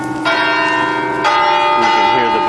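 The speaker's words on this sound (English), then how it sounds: "You can hear the bells going off," Notre Dame cathedral's church bells ring out to mark four o'clock, loud and resonant, with fresh strikes landing about once a second over a long humming decay.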